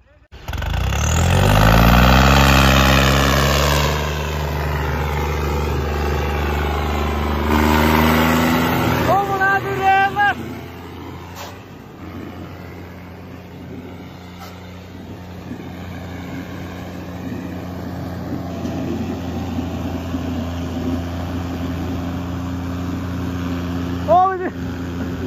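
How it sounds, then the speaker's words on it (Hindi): A John Deere 5210 tractor with 26-inch tyres in a tractor tug-of-war contest, its diesel engine revving hard and loud at first, then settling into a steady, rumbling idle with some voices and clatter in the background. "आजा आजा ना ट्रैक्टर चला ले आजा"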